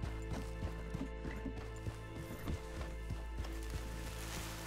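Faint hooves clip-clop in a quick, uneven rhythm over a steady background hum, like a horse trotting at a distance, in the video game Red Dead Online.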